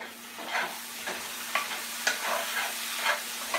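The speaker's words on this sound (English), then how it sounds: "Do y'all hear that fry, honey?" Homemade taco shells fry in a pan of oil, giving a steady close sizzle broken by irregular crackling pops, with no talking.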